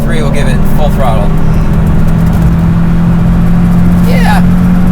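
A car engine in a video game is held at full throttle, a loud steady droning roar filling the whole stretch, with brief voice-like bits of sound at the start and near the end.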